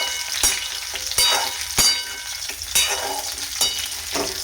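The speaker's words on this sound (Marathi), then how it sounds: "आता एकदा तेलामध्ये आपल्याला छान मिक्स करून घ्यायचे" Stuffed okra (bharli bhendi) stirred in oil in a kadhai, with a steady soft sizzle broken by several sharp scraping stirs of the spoon against the pan, close and without talk.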